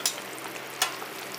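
Curry leaves dropped into a hot pan for frozen fish masala give a soft steady sizzle, quiet and close, with two brief crackling bursts and no talk.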